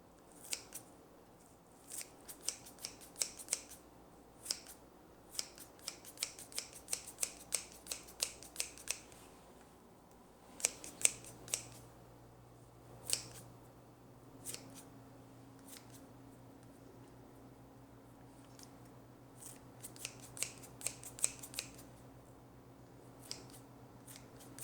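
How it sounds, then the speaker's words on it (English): Kitchen shears snipping parsley over baked panko shrimp, quick bursts of crisp close snips in irregular clusters with pauses between, quiet room tone underneath and a low hum joining in partway. "I'm going to put parsley on top. Use my fancy shears."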